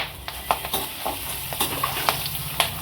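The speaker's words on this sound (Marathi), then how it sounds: "पहिल्यांदा आपण मसाला वेलची आहे ती भाजून घेऊ, सुंठ, सगळेच मसाले, खडे मसाले आपण एकत्र भाजून घेऊ।" Whole spices such as cardamom and dry ginger are dry-roasted and tossed in a pan, making soft scrapes, light rattles and a few sharp taps over a faint background hiss.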